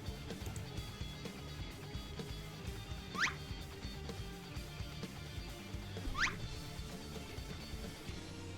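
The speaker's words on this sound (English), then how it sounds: "That little squeaky sound was Wook Lamont looking to Aaronville." Two short, high, rising squeaks from a character in the game Final Fantasy XIV, about three seconds apart, clear above a low, busy background of game music and ambience.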